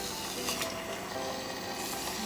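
Thick slices of pork belly for ginger pork frying in a pan, a soft continuous sizzle with light stirring and utensil scrapes, fairly quiet and close, with no talking.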